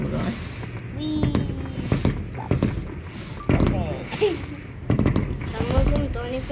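Fireworks rockets whoosh upward and burst in a series of sharp pops and bangs, some near and some farther off, with people talking and exclaiming between the blasts.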